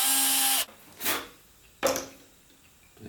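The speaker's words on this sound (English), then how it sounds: "Drill some holes. Not all the way, half a centimeter is okay." A drill bores shallow holes into cabinet wood for concealed hinges using a 35mm Forstner bit. A steady whine cuts off abruptly, followed by two short, sharp bursts, all close and fairly loud.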